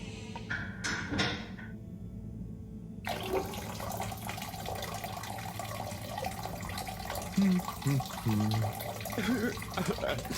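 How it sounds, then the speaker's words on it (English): A shower hisses steadily in a bathroom in the Harold Halibut video game, a constant rush of running water with a few faint knocks and clunks, preceded by brief footsteps and a door. "Sounds like the shower is playing up."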